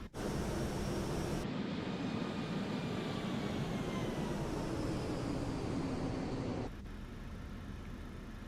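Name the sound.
Ryanair airliner engine in a flight simulator video game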